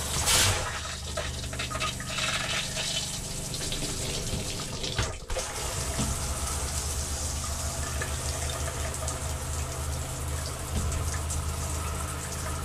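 Hot water runs from an RV trailer shower tap, a steady hissing spray with a brief clunk midway as the flow shifts, then continuing evenly.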